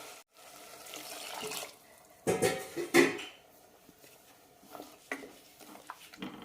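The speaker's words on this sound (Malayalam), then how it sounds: "കുറച്ച് വെള്ളം കൂടി ഒഴിക്കാം" Water poured into a radish curry in a pot after the ground coconut paste goes in, giving a few short splashing pours and a brief clink of a utensil, close by and heard alone.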